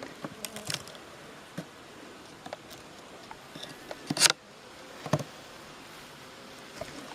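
Carniolan honey bees hum at an open beehive during preparation for winter, a faint buzzing with a few louder bees passing close by and occasional soft knocks from the hive.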